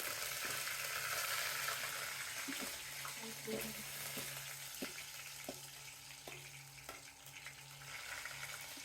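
Curry leaves fry in hot oil in a kadai, giving a continuous crackling sizzle with scattered sharp pops and a few clinks of stirring, fairly close and moderately loud.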